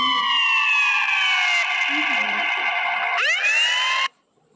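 An ambulance siren wails loudly and close in a sustained falling tone, briefly restarting with a rising sweep before cutting off abruptly, with faint voices underneath.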